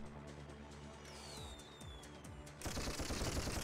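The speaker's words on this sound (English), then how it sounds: "We can also fire a little machine gun" A little toy plane's machine gun rattles in Toy Commander on Dreamcast, steady rapid fire under a game engine drone, growing denser and louder near the end.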